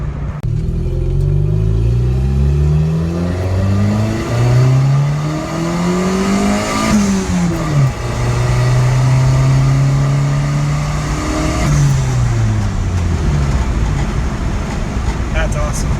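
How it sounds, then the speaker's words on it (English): A turbocharged car with a full exhaust and a newly welded turbo downpipe accelerates hard and close by, its loud engine note climbing in rising sweeps through several gear changes and then settling into a steady drone. "This is why I like the full exhaust ran with turbo."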